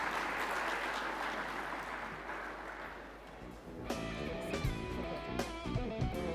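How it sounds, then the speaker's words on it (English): Audience applause in a conference hall after a keynote talk, a steady wash of clapping for about three seconds that fades as music begins. "A big round of applause, ladies and gentlemen, to Mr. Paul Harwood"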